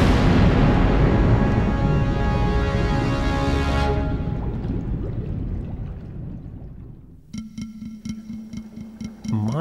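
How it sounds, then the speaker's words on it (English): Huge underwater explosion of sea mines as an audiobook sound effect: a loud rumbling blast that fades over several seconds, followed by bubbling, fluttering watery sounds. "he spit out the torpedo and hit the surrounding sea mines. There was a huge explosion."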